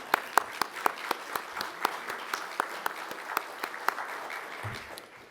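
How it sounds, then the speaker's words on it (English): Applause at a 2024 business awards ceremony, heard as a steady stream of crisp, regularly spaced claps, moderately loud and close, fading slightly toward the end with no one speaking over it. "let's give them a big round of applause"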